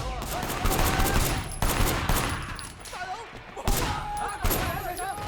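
Rapid gunfire in the open-world action game Sleeping Dogs, dense bursts of shots running almost continuously through a loud melee fight, with brief dips between volleys.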